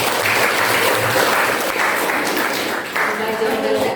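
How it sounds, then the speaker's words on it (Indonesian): A classroom group claps together in a burst of applause. The clapping is loud, close and continuous, swelling and dipping slightly over a few seconds. "tepuk tangan buat saya"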